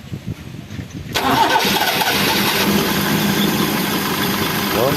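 A Toyota 3A engine starting after a carburetor installation cranks briefly, then catches and settles into a loud, steady idle nearby, with no talk over it.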